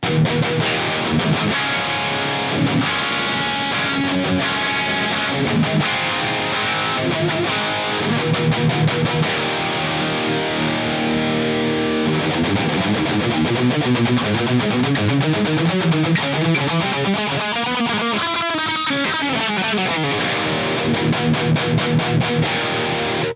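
Heavily distorted electric guitar plays through a Peavey XXX amplifier, chugging riffs and sustained chords filling the whole stretch without any talking.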